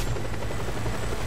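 Helicopter in the video game Just Cause 2: a continuous, loud rotor thrum with a steady chopping pulse and engine whine, close by and unbroken, with no talk over it.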